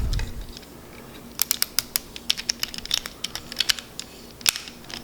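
A plastic part on an MP44 transforming toy robot clicks into place, heard as a quick, close run of sharp little snaps and ticks with no talking.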